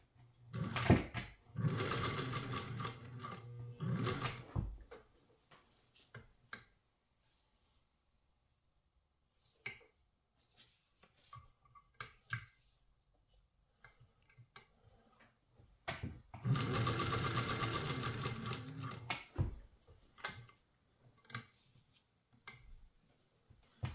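A Japanese class 15 or Singer 201 sewing machine stitches fabric in two loud, fast-running bursts, one at the start and one near the end, with a few quieter taps and short clicks in the gap between them.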